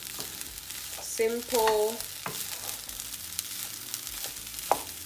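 Egg and pork fried rice being stirred in a hot pan, giving a steady sizzle with scraping stir strokes, and a brief voice heard near the middle.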